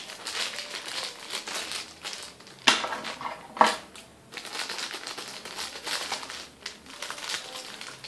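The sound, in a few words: cutting packaging with scissors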